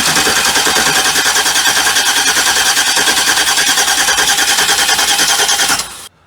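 A car engine cranks steadily for about six seconds while the distributor is twisted, a loud rhythmic starter churn that never catches and then cuts off abruptly.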